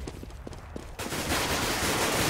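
Five-seveN pistol gunfire in a CS:GO match on the Season map: a few quick, sharp pistol shots ring out, then a dense, loud burst of gunfire continues without letting up.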